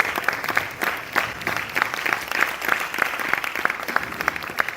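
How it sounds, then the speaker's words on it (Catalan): Audience applause fills a theatre hall at a May 2024 event on digital relationships, a steady wash of many hands with brighter individual claps standing out in a regular rhythm, loud and sustained throughout. "un fort aplaudiment per tots ells."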